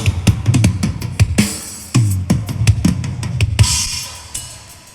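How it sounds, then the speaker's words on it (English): Punchy drums in a full live front-of-house mix of a song: kicks, snare hits and cymbal crashes in a driving rhythm, loud and close, with no voices. "you can hear, a lot of drums happening"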